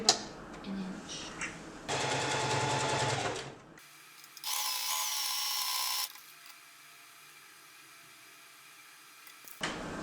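A sewing machine stitches back over a double-fold hem in two separate runs of about two seconds each, close and loud, with quieter pauses and handling between them.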